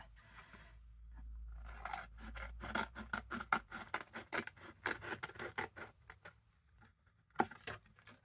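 Scissors snipping off unwanted craft bits, a rapid run of close, crisp cuts and rustles after a brief soft handling noise.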